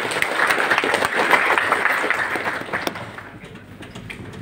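An audience at a government training session for village heads and officials in Indonesia gives a dense burst of clapping that carries for about three seconds and then fades away.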